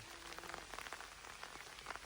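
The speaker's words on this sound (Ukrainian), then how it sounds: "Падає дощ. Так шумить, шумить." Rain patters steadily in a forest, a soft, even hiss with scattered close drip taps, fairly quiet and with no voices.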